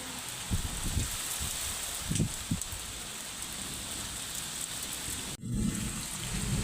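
Steady heavy rain pours down, a dense continuous hiss with a few low thumps and a brief dropout near the end.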